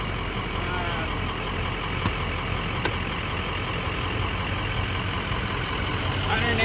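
A 2004 Ford F550 cab and chassis truck, four-wheel drive and automatic, with bad batteries, idles with a steady, unbroken engine drone and no change in pace.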